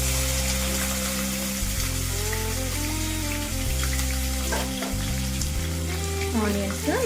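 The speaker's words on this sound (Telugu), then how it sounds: "ఆనియన్స్ మంచి గోల్డెన్ కలర్ వచ్చే వరకు వేయించుకున్నామండి." Onions, green chillies and bay leaves fry in hot oil with a steady, dense sizzle and crackle, close and continuous throughout, while low tonal hums and faint clinks sit underneath.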